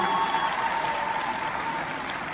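Steady applause from a crowd, a dense patter of clapping that continues evenly throughout without pause.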